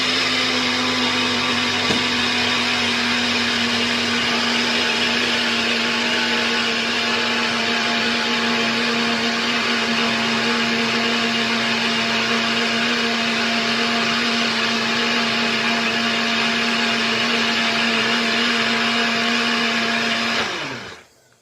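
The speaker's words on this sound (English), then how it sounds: "The cashew nuts have been soaked, so they're nice and soft, so they blend quite easily" A blender runs steadily on soaked, softened cashew nuts for vegan cheese, a loud continuous whir lasting about twenty seconds before spinning down abruptly at the end.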